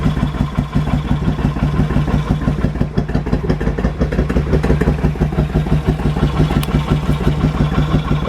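A Suzuki VS1400 Intruder V-twin motorcycle engine idles close by, loud and lumpy with a steady pulsing rhythm, during work on the carburetor idle adjustment.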